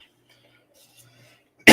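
A single loud, close cough bursts out at the very end after near silence, during a podcast-style talk on alien abductions.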